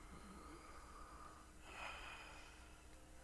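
A character in Red Dead Redemption 2 draws one audible breath during a doctor's examination, a quiet snort-like inhale and exhale alone against a faint background hum.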